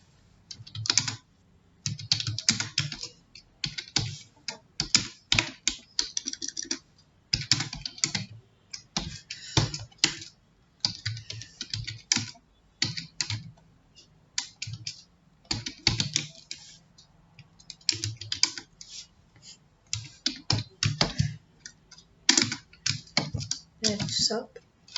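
Rapid bursts of typing on a computer keyboard as Python code for arithmetic functions is entered, clicks clustered in quick runs with short pauses, close and moderately loud with a low hum underneath.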